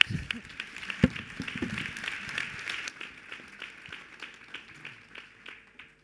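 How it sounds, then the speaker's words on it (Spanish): A university lecture audience applauds after a speaker finishes, a moderate burst of clapping that gradually thins and fades over several seconds. "Un aplauso, por favor."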